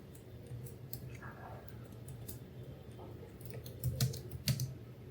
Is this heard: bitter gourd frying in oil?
no